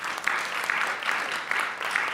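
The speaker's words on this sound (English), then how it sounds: "I think they need an applause." Conference audience at a Brussels stage applauds panel speakers, a brief, moderately quiet burst of steady clapping from a seated crowd.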